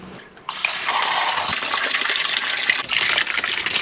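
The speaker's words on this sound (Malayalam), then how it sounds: "ഇപ്പോൾ ചിക്കനൊക്കെ നന്നായിട്ട് കഴുകി വൃത്തിയാക്കിയിട്ടുണ്ട്" Raw chicken pieces are washed under running tap water: after a brief quiet start, a strong gushing splash begins and keeps pouring steadily, close and loud.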